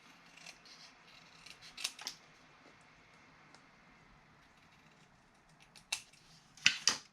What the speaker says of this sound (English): I'm just going to freehand trim away some of the excess white